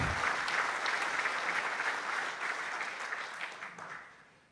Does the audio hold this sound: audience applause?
yes